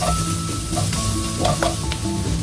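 Onions sautéing in olive oil with garlic for tokwa and kangkong in oyster sauce, a continuous close sizzle broken by a few light clinks and scrapes of a utensil against the pan, with no voices.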